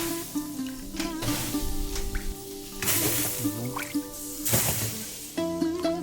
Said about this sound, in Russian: Я спрыскиваю его стенки водой.